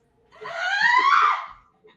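A child's single drawn-out scream during a storytelling performance, loud and close, rising then falling over about a second and a half.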